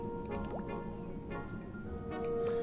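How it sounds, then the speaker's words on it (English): Water trickles and drips as a storage tank fills in the Automachef video game, soft liquid sounds under a low steady hum and faint tonal game noise. "fill it with water anyway."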